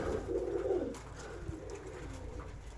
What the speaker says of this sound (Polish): Tamte widzicie jak grukają.